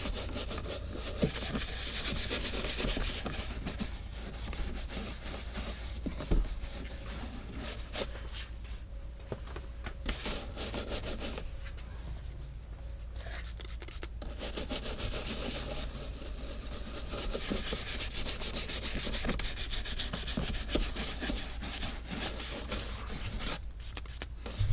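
A cloth rubs Bickmore Exotic cleaner onto Lucchese San Antonio exotic lizard skin boots, making steady, close, continuous scrubbing and rubbing strokes throughout, alone and without talk.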